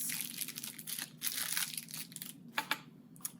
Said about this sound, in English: here I'm going to just unwrap